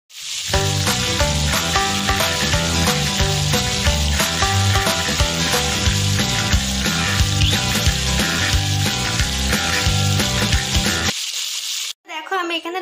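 Kuche mach, small eel-like fish, fry in hot oil in a pan with a loud, dense, continuous sizzle that holds steady before cutting off abruptly near the end.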